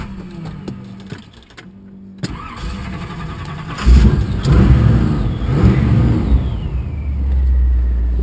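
A 1957 Chevrolet Bel Air is started up: the starter cranks briefly, then the engine catches with a loud burst and settles into a steady, rumbling idle close by, with no talking.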